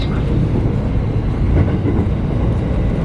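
A train on a mountain railway in Japan rumbles along, a loud, steady low roar with faint rail clatter throughout.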